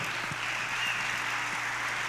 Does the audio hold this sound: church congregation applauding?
yes